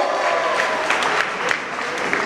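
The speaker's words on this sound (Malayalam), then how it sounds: "പ്ലീസ് നല്ല കൈയടി കൊടുക്കൂ." An audience at a music fest claps loudly and continuously, a dense near wash of applause with a faint crowd murmur beneath it.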